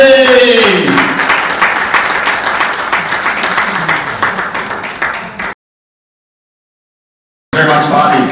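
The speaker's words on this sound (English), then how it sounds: "Give him a big round of applause." Open-mic comedy crowd clapping as a comedian is brought on stage, strong dense applause that thins slightly, cut by a sudden silent gap before clapping resumes.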